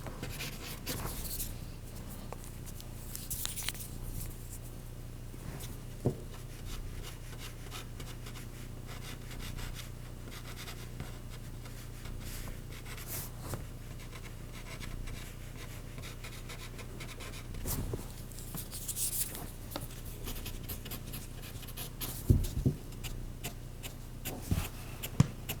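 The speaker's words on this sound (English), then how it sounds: "You just want to rub this pastel in. Really using the excess on the stump." Soft, continuous scratchy rubbing of pastel being blended into paper with a blending stump, faint and close with occasional small taps, no voices.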